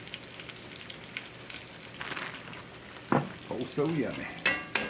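Catfish pieces frying in a cast iron skillet, a steady low sizzle with some stirring clatter, then louder bursts near the end; a voice speaks briefly over the frying.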